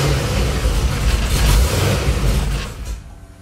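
A 1957 Chevy engine cranks and catches without the gas pedal, a rough mid-pitched churn building into a steady running rumble, close and moderately loud, then cutting away at the end.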